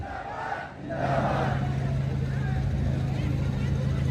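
A large crowd at a political rally in Sitapur raises a loud, sustained roar of chanting and applause that swells after a short lull and holds steady for several seconds.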